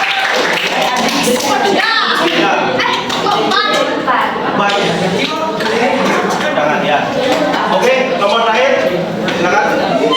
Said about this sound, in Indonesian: Tepuk tangan buat kelompok apa ini?